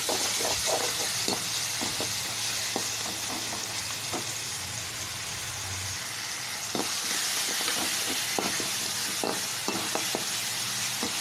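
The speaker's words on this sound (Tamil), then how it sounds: "இப்போ நம்ம தக்காளியை சேர்த்துக்கலாம். அதையும் சேர்த்து நல்லா வதக்கணும்." Chopped tomatoes sauté in a hot pan for Tamil-style tomato rice, a steady, close sizzle and hiss broken by faint stirring clicks.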